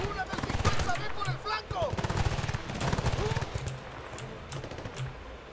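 Rapid machine gun fire in the video game Battlefield: Bad Company 2, loud bursts of gunshots and scattered shots running through a snowy level, with people talking over the action.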